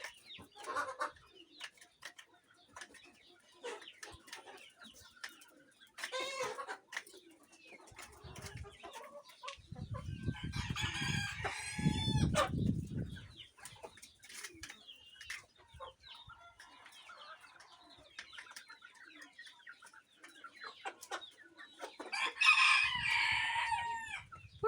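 Roosters crow several times, some close and some farther off, amid clucking chickens and other birds in a quiet outdoor setting.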